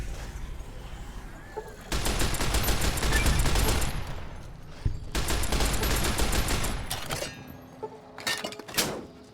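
Long bursts of rapid automatic fire from an odd gun in Fallout: New Vegas, two sustained loud volleys with a pause between and shorter bursts near the end.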